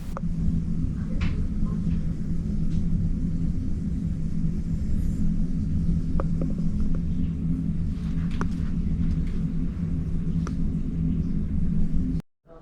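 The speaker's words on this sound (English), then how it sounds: "And you can hear the thunder of the falls from your room." Steady distant roar of Niagara Falls, heard through a 40th-floor hotel room window, forming a continuous low rumbling wash that never lets up, with a few faint clicks on top and no talking.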